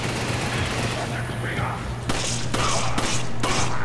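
Gunfire in the co-op shooter Resident Evil 5, a dense run of loud, close shots and thuds over a constant game background hum, with several separate heavy bursts toward the end.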